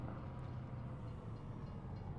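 Train rolling past in Farming Simulator 22, a low, steady rumble of rail cars at a faint, constant level with no voices.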